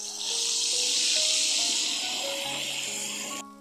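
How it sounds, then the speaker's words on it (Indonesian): Chicken frying in hot oil, a steady loud sizzle and hiss that holds for a few seconds before cutting off, with faint kitchen tones underneath and no talking. "Lanjut aku goreng ayam."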